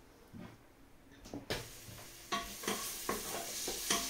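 Onions stirred in a pot of spicy beef and potato stew, with a faint sizzle and a few scraping knocks of a spoon against the pot at an unhurried pace, close by.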